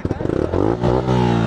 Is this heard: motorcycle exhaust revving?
yes